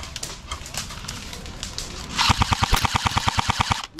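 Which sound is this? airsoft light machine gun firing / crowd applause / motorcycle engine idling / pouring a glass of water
airsoft light machine gun firing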